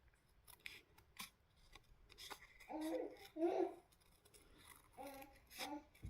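Scissors cutting paper for a simple scrapbooking card, a quiet close series of crisp snips and rasping slices, several in quick succession.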